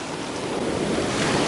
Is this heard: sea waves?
yes